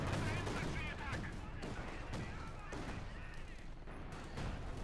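Gunfire and artillery rattle through a WWII strategy game battle with tanks and infantry, volleys and sharp bursts overlapping at moderate distance under a dense, continuous din.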